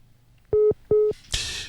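Two long, loud, clean telephone dialing tones during a radio call-in show, followed by a short burst of hiss on the line.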